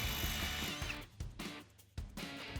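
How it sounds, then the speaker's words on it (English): A power drill bores a hole in a metal bracket for a switch mount, whirring loudly at first, then pausing and restarting in short bursts. "then drill it out to size."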